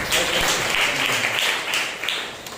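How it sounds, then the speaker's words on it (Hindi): Applause from a congregation at a Sunday morning church service, a dense burst of many hands clapping at once, loud and close, briefly sustained before tapering slightly. "जोरदार और एक ताली बजा दो।"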